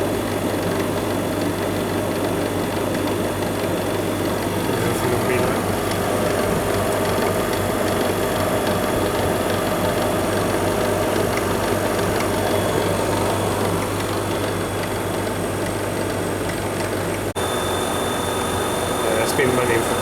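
A 1/2 HP Prestcold refrigeration compressor runs steadily with a constant low mechanical hum and drone throughout, loud and continuous, with faint voices in the background.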